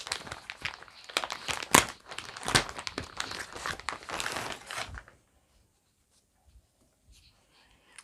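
Plastic packaging around a pack of white washcloths is crinkled and torn open, loud close rustling and crackling for about five seconds, then near silence with a few faint rustles.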